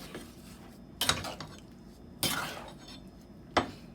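A spoon stirs canned peaches in a pot, making a few soft scraping clinks against the metal in separate bursts with quiet gaps between them.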